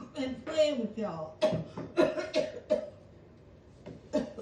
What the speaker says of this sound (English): you okay with that cough? That don't sound right.